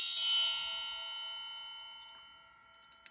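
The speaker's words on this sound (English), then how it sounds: "I'm going to go ahead and ring the bell for additional good juju" A single bell strikes once with a bright, clear ring that slowly fades over a few seconds into near silence, heard alone in a quiet room.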